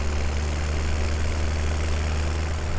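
A tractor engine idles in Farming Simulator 17, a loud, steady low-pitched rumble with a constant droning tone and no change in rhythm, heard alone for a few seconds.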